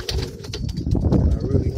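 Pigeons cooing in a loft coop, several close, loud overlapping coos with rustling and faint wing movement throughout.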